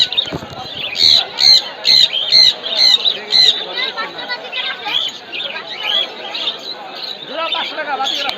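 Pet birds squawk and screech at the Mirpur 1 bird market, a cluster of loud repeated calls at first giving way to busier, overlapping chatter with people talking throughout.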